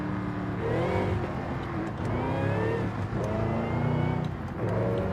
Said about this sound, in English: listen to that V8 supercharger.